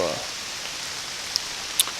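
Steady rain falls outdoors on a rural hunting property on an archery season opening day, a soft even hiss throughout with a couple of brief louder drips or taps near the end.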